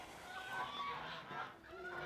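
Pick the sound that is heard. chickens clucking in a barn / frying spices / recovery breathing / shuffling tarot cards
chickens clucking in a barn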